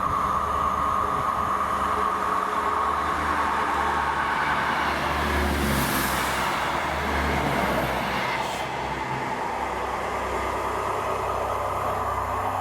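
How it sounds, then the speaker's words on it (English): ScotRail passenger train formed of diesel units 158711 and 158738 passing Monifeith, a loud continuous rumble of engine and wheels on track with a brief high squeal midway, no voices. "we see the return of 2L92, the 1952 ScotRail service to Dundee from Arborough"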